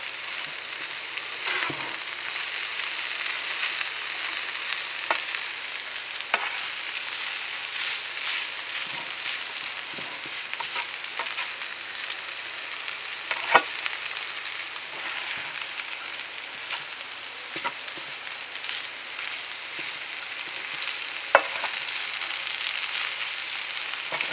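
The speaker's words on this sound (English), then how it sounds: "Now I'm going to mix it around with the cabbage." Cabbage and noodles fry steadily in a pan for a low-fat Hungarian cabbage and noodles dish. A constant close sizzle runs throughout, with scattered scraping clicks as the mix is stirred. No one speaks.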